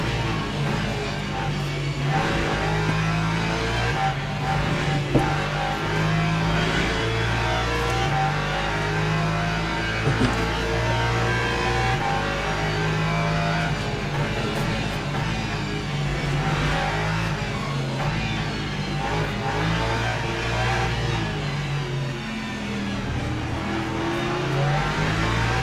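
Race car in Le Mans Ultimate at Paul Ricard, its engine droning loud and close throughout with steady revving and shifts in pitch as it accelerates.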